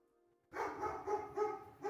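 A dog barking indoors in a room, a rapid string of repeated barks close by, starting abruptly after a moment of quiet and continuing steadily.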